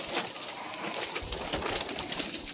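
Domestic pigeons in a home loft in the afternoon, giving soft cooing amid steady background noise, with no talk.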